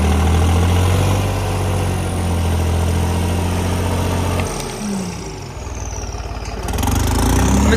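A Sonalika tractor engine idles in neutral, loud and close, with a deep steady throb that briefly dips and roughens before settling back to its even idle.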